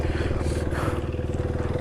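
A motorcycle cruises through city streets at night, engine thrumming in a steady rapid pulse close to the mic, with wind rush over it.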